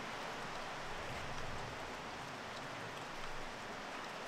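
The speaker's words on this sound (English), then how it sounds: "There's a fair bit of background noise with this glorious rain" Steady rain falls outside beside a camp stove, a soft, even hiss that runs evenly throughout with faint swells, distant and quiet.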